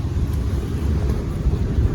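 City bus pulling up at a stop on a Sunday evening, a steady low engine rumble and road noise close by, with no talk.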